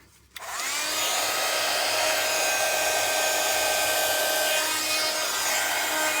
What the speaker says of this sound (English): Right, so heating the heat tool up.